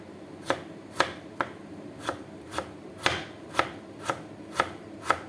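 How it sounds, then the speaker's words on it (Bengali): A knife chops potatoes very finely on a board while bitter gourd dal is being made, striking about ten times in a steady rhythm, each chop crisp and close with no talking. "করলার ভিতরে যত চিকন করে আলু কুচান যায় ততই ভালো।"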